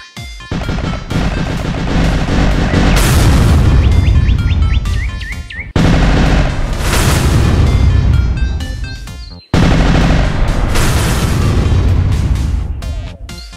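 Cannon fire and crashing explosions from a tank build in Roblox Build a Boat, loud and continuous in three long bursts with brief gaps, dense with bright crackling debris and chirpy synth tones layered over it.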